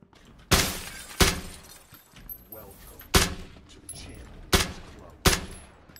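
Gunfire in PUBG Battlegrounds: five loud, sharp shots spaced about a second apart, each with a brief ringing tail, over faint ambient game noise.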